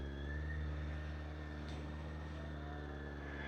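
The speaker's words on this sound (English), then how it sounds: "You can actually hear the carburetors right now." A steady carbureted motorcycle engine idles with a low, even drone and a constant mechanical hum, close by, with no voices.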